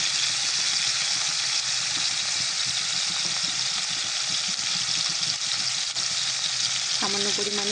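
Chopped onions fry in hot oil with a loud, steady sizzle that fills the whole stretch, broken only by light stirring sounds.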